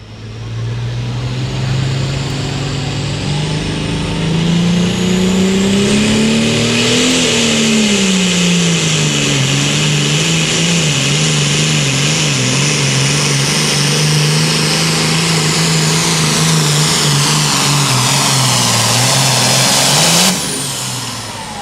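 A pulling tractor, the Green Beaver 2, roars through a full pass at a tractor pull in Hopkinsville, Kentucky. The loud engine climbs, wavers and strains under load for about twenty seconds, then cuts off abruptly.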